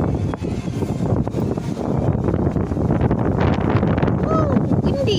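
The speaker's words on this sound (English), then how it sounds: "Oh, windy." Strong outdoor wind batters the microphone in a loud, continuous rumbling buffet, with faint voices and a few high squeaks near the end.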